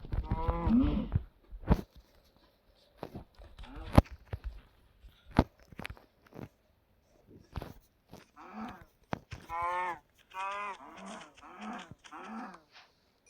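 Several short moos from a Minecraft cow, mixed with sharp clicks and thumps, come in bursts with quiet gaps between them.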